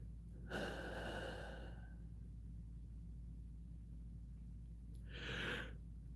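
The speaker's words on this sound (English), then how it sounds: "Sorry for that yawn." A drawn-out human yawn, close and fairly quiet, opening with a long breathy exhale, then a shorter breathy tail a few seconds later after a pause of near silence.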